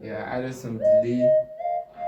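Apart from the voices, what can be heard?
No distinct noise like a dog, phone or traffic.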